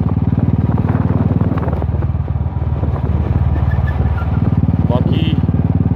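A motorcycle climbing the Gata Loops road in Ladakh, its engine droning steadily and loudly up close with a constant throbbing rumble throughout, plus brief rattles and wind noise.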